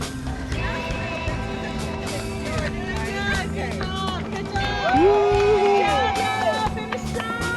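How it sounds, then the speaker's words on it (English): Small cheering crowd of onlookers calls out along the last straightaway of a running track, lively shouts and whoops mixed with nearby chatter and a coaching voice, loudest near the end. "Got a cheering section."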